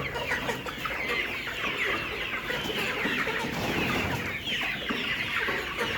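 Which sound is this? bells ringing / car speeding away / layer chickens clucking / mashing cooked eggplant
layer chickens clucking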